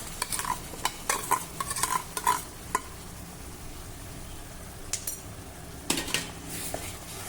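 Ground masala paste sautéed in oil with roasted besan over low flame, a soft frying hiss with a cluster of clinking spoon-against-pan stirs early on, then quieter sizzle and another burst of scraping near the end.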